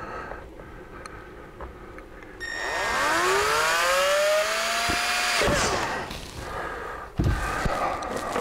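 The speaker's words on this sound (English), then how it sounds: "So we're gonna drill that hole right about there." A power drill spins up drilling a hole in a leather and Kydex holster, with a rising, whining motor tone that holds steady for a few seconds, then cuts off, followed by a short clunk.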